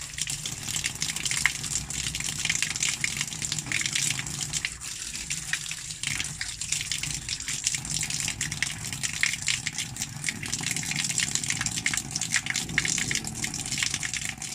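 Water from a tap gushes steadily while grape seedling roots are washed under it, a close, continuous splashing rush that runs without a break.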